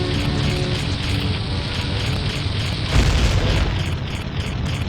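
Bomb blast in Zelda: Ocarina of Time, a booming explosion rumbling under steady game sound, with a heavier burst landing around the middle of the clip.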